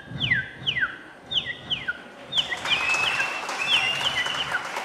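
A performer on stage at a school district arts festival (CBSE Kollam Kalotsav 2019) vocally imitates a baby chick: a string of sharp, high, falling peeps, spaced at first, then crowding into a busier, louder flurry of chirps.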